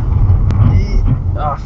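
A car accelerates while drifting sideways on snow in Levi, giving a loud, steady engine roar with wind buffeting the microphone and a voice speaking over it.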